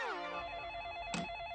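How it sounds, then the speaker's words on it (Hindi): An indoor telephone gives a quiet electronic ring, a steady repeating warble that runs through the whole moment, with a brief clattering knock partway through. "वो पागल टीशा का फोन होगा, मैं उसे काट देता हूँ।"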